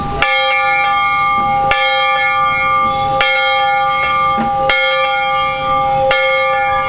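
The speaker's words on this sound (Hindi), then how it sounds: "तो अभी हम आपको दिखाएंगे ये बेल कैसे बजती है।" Large church bell struck in steady, slow succession, about five loud clangs each roughly a second and a half apart, rich ringing tones overlapping and sustaining between strikes, with no talking.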